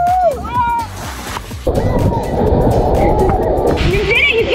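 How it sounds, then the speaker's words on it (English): Water sloshes and splashes continuously on a water slide in Hawaii, a loud rushing wash close by, with people shouting and talking over it at the start and end. "All right, I'm going down a water slide."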